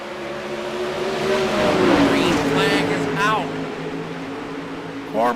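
360 sprint cars racing in a heat at a night race, engines roaring and revving as they pass, a surge that peaks mid-clip with a commentator talking over it.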